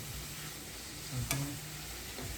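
Chicken wings frying in a pan give off a steady, quiet sizzle with one brief sharp tick and a small clatter near the middle.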